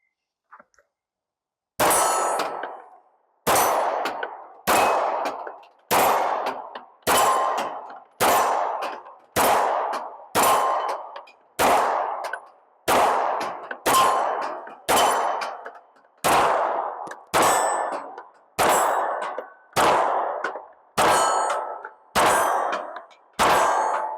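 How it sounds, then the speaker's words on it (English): Canik Mete MC9 Prime pistol firing its first rounds outdoors: about eighteen sharp, loud shots at a steady, unhurried pace, each with a short ringing decay and nothing else between them. "First rounds through the MC9 Prime."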